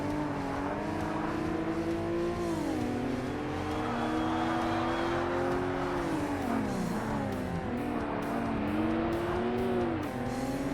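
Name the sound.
racing car engines in video game Forza Motorsport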